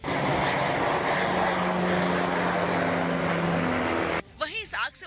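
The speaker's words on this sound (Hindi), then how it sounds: "इस काम में जुटे कई हेलीकॉप्टर आसमान से आग पर पानी की बौछार करते दिखाई दिए।" A firefighting aircraft drones overhead during water drops on a wildfire near Athens, a loud, steady engine roar that cuts off near the end, when a voice begins speaking.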